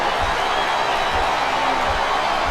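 Steady roar of a wrestling arena crowd in SmackDown vs Raw 2007, a dense continuous wash of noise at a constant loud level with low thumps recurring about once a second beneath it.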